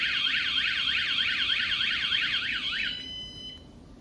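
A VanGuardian van alarm on a side door wails in rapid rising and falling sweeps, loud and continuous, then cuts off abruptly leaving a brief fading ring.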